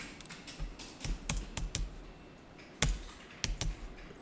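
A date is tapped out on a computer keyboard with a series of close, crisp keystrokes in uneven bursts, and no voices are heard.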